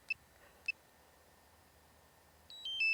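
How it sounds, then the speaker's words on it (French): Several short high-pitched electronic beeps from a DJI Mavic Pro drone remote controller as it disconnects: two isolated chirps early, then a quick rising cluster of tones at the end over faint background hiss. "le bip bip, c'est que la télécommande se déconnecte"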